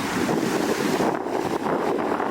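Strong wind roars and buffets the microphone continuously beside the Rio Bueno River, with a low rushing rumble and no voices.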